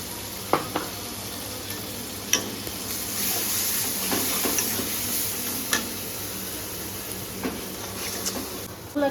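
Onion paste with turmeric and salt frying in oil, a steady close sizzle broken by several sharp spoon or pan clinks as it is stirred, no voices.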